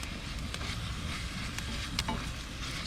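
Chorizo sizzling in a frying pan, cooked for stuffed jalapenos: a steady, close crackling hiss that runs the whole time, with a few faint clinks or stirs.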